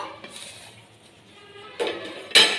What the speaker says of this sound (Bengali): এই সময় আমি একটু ঢাকনাটা খুলবো।